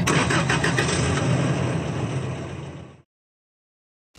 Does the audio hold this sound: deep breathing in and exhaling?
no